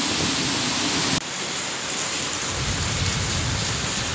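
Steady heavy rain pours down with a dense hiss throughout, briefly shifting in tone partway through, with no voices.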